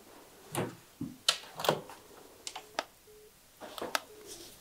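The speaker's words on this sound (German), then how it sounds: "Das Telefon geht auch noch" Short tones and clicks from a still-working cordless telephone in an abandoned, shut-down spa hotel, sounding as scattered beeps and button presses with brief pauses between them, close by in a quiet room.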